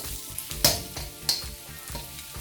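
Cheesesteak filling seasoned with black pepper sizzles in a pan on the stove, a steady close crackle broken by a few sharper bright pops and stirring scrapes, with no talk.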